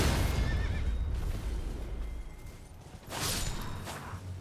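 A horse neighs in the video game Elden Ring, a short whinny over steady game ambience and low rumble, followed by a louder whooshing burst near the end.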